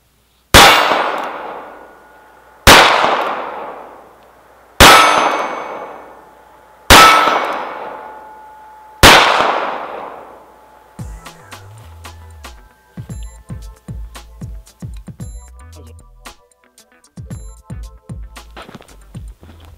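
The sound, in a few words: gunshots from North American Arms 22 Magnum revolver, one-handed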